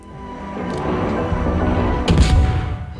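Guns of the Tier 8 German destroyer KMS Z-23 firing in a naval battle game: a steady rumbling background, then a sharp, loud salvo crack near the end that rolls off into a heavy boom.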